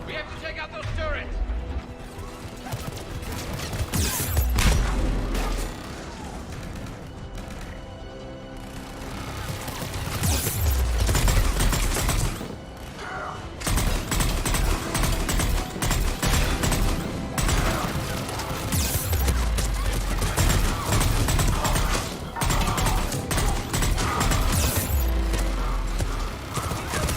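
Turret gunfire in a Mass Effect 3 firefight, sustained bursts of shots mixed with crashes and impacts, loud and continuous under a dense game soundtrack, with voices talking over it.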